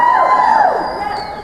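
A political rally crowd yells and cheers loudly, a dense roar of many voices with rising shouts that swell and then ease slightly.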